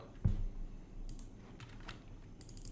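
Several keys are tapped on a computer keyboard to enter a rotation value in design software, a close, sparse series of light clicks following one louder initial knock.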